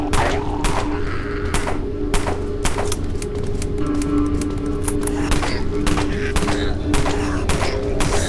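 Rapid gunfire in the zombie shooter Dead Frontier, a steady series of sharp close shots at a quick, regular rhythm over a low background hum.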